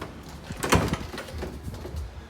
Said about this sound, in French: La porte enclenche et elle ne frappe pas au vent.